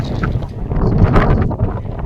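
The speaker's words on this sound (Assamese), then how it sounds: "বতাহ হৈ আছে মই দেখুৱাম বালিবোৰ কেনেকৈ উৰি আছে" Wind sweeps across a gentle sandy slope in Ladakh, blowing the sand and buffeting the microphone with a loud, rough, continuous roar that swells and dips.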